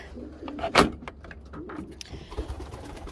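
Pigeons coo softly in an enclosed space, with one louder call standing out among scattered shuffles and light knocks.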